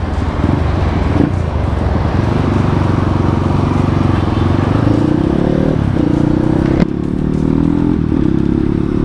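A bored-up 200 cc Kawasaki KLX supermoto running close by: a steady, loud engine drone with rattling and clatter, a slight rise in pitch midway and a sharp knock near the end.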